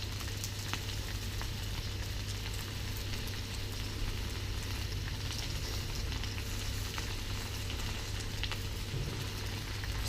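Food frying in a little ghee in a pan over high heat, a steady dense sizzle and crackle with a low hum beneath, continuous and unbroken.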